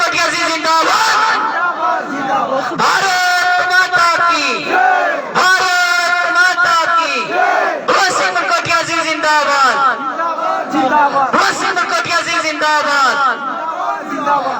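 A large crowd at a political gathering chants zindabad slogans for Balwant Singh Mankotia, loud rhythmic call-and-response bursts of massed voices repeating in waves, with a lead shout answered by the crowd.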